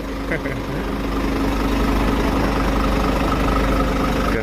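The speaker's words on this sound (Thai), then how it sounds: "เสียงเครื่องยนต์ก็จะประมาณนี้ครับตัวใหม่ยูโร5 เสียงวาวจะเงียบกว่าเดิม" Scania Super Euro 5 420P truck's diesel engine idles with a steady, deep rumble heard up close, running continuously and evenly with little change in pitch.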